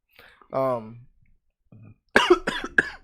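A man coughs a few times, with a short throat-clearing cough early on and then a burst of three harsh coughs close to the microphone, with faint voices around it.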